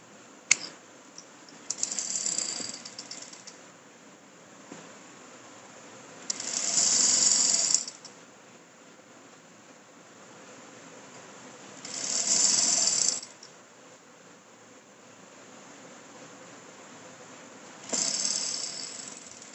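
A sewing machine stitches a doubled one-inch cross piece for a dori stitch, running in four short mechanical whirring bursts spaced several seconds apart, with quiet pauses between them.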